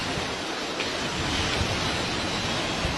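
Floodwater rushes past in Nepal as a dense, unbroken roar that stays loud and even throughout, with no voices.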